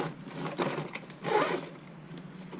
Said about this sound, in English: And then the whole top part zips up,